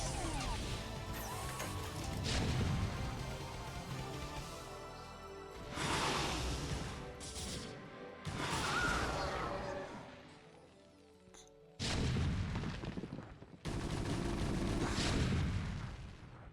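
Siege tanks fire on lurkers in a StarCraft match: heavy booming shots and crashing impacts come in several loud bursts separated by short lulls, thick with game effects.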